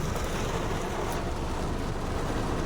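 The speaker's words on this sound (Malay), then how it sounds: "Tapi kami tak keluar lagi sebab hujan lebat sangat ni." Heavy rain pounds on a parked car outside a mosque, a dense, steady broadband roar heard from inside the vehicle with no breaks and no talking.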